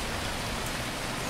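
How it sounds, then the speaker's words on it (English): Rain falls steadily in a Wall-E style exploration video game, a dense unbroken hiss of drops that stays loud and even throughout, with no voices. "the rain is coming from very small clouds, as if the planet is sucking the water out of them"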